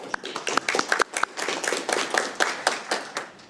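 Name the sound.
audience applause at a county board meeting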